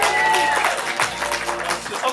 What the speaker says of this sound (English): Give them a little round of applause.